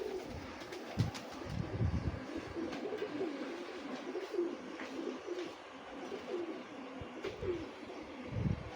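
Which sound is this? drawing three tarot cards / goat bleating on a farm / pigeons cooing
pigeons cooing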